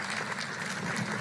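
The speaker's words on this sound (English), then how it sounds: "A big round of applause to Larry Puccio." Faint, steady clapping from an audience at a Republican gathering, applauding Larry Puccio, heard as a soft continuous patter.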